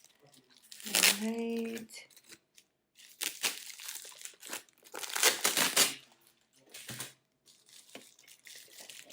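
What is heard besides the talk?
unwrapping a packaged item from a box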